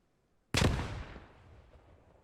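A grenade detonates in the World War II shooter Post Scriptum: a single sudden, loud blast after half a second of near silence, followed by a long rumbling decay.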